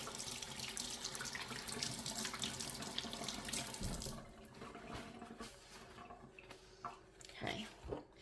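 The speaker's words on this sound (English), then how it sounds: "let me go ahead and wash my hands off here" A kitchen tap runs steadily for hands being rinsed, with a strong splashing flow that cuts off partway through, leaving faint drips and small handling noises.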